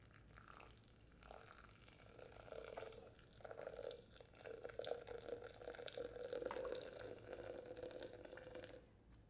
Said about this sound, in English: I'm gonna pour 500 grams in, and we're gonna do about a 6-minute French press.